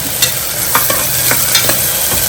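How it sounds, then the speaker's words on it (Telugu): Onions and green chilies fry loudly in oil in a pan, a dense close sizzle with soft, irregular stirring scrapes and taps, and no voices. "ఎర్రగా వేగిన తర్వాత వేగేదాకా వేయించుకోవాలి ఇవి ఎర్రగా వేగాలి"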